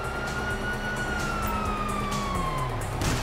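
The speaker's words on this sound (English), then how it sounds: "Hear that? Sirens!" Wailing police sirens in Grand Theft Auto V, a sustained sweeping tone rising and gliding down over steady traffic rumble, loud and continuous with no talk.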